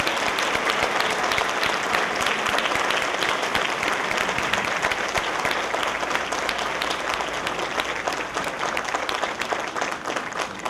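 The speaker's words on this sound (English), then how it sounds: "Everyone, give him another round of applause and congratulations." An audience at the Prince George's County Public Safety Valor Awards ceremony gives sustained applause for the department's Paramedic of the Year, a dense, steady clapping from a large crowd that holds at an even level throughout.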